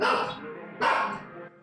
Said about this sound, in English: The dog is freaking out.